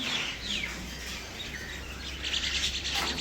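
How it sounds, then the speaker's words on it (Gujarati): Small birds, crows and mynas call outdoors near a workshop in the early morning, with scattered chirps and squawks at moderate distance over a steady low background hum. "ચકલા પણ આવી ગયા છે આપણા."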